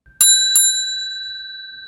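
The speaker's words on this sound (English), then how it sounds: "please subscribe and click on the bell button" A bell notification chime rings twice in quick succession, bright and metallic, with the second strike leaving a long, clear tone that slowly fades.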